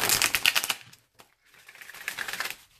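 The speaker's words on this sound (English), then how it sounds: "I just want to see how it shuffles." Crisp riffling flutter of oracle cards being shuffled, a dense burst, a short pause with a single snap, then a second quieter shuffle.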